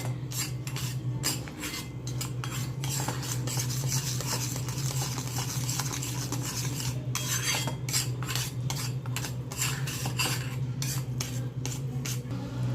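Boiling jaggery and sugar for chikki stirred in a pan, repeated scraping and rubbing strokes of a spoon against metal in a steady rhythm, close and alone over a low hum.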